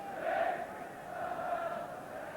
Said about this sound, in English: Big and noisy crowd.